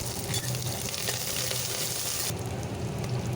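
Curry leaves crackle and sizzle in hot oil alongside shallots, garlic and green chillies for a bean curry, a steady close frying hiss with a brief sharper spatter partway through.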